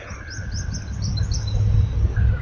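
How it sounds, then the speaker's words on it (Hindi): Small birds chirp in short repeated bursts, fairly faint and distant above a steady low background rumble, with no voices. "जो आवाज़ आ रही है चिड़िया की, ये फालतू ही नहीं है।"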